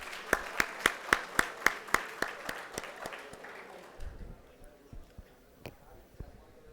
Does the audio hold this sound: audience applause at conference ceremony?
yes